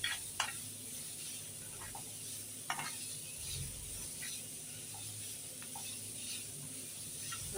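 Carrots sauté in a pan with a soft, steady sizzle and hiss, broken by a few light scraping stirs, close and fairly quiet with no talking.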